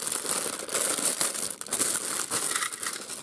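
Plastic packaging around a Plarail 207 series toy train is crinkled and torn open, giving a continuous close rustling and crumpling with brief pauses.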